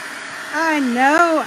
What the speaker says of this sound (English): So I want to just blast this with the heat gun again so we can dry it